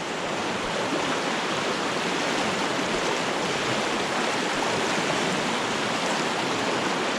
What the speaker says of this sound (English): this current is ridiculously fast